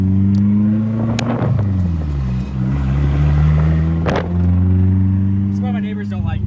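Nissan 240SX drift car running with no exhaust fitted, its loud engine droning steadily close by with two sharp revs rising and falling, while people talk over it.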